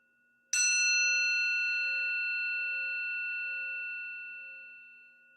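A single meditation bell struck once at the close of an evening mindfulness drop-in group, ringing out clearly and then fading in a long, shimmering sustained tone with a slow pulsing beat over several seconds, alone and without talk.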